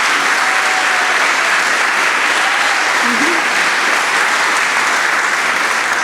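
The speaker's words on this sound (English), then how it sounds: "let's give one more round of applause to our honorary fellows" A large gala audience at an aerospace awards event gives loud, dense, sustained applause for honorary fellows, a continuous wash of many hands clapping throughout.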